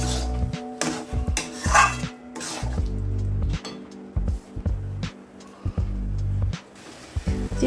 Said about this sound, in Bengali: এখন আমি চিনিটাকে ভালো করে আমের সাথে মিশিয়ে দিই।